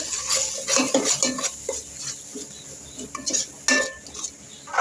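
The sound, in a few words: stirring a spiced rice dish with garam masala in a pot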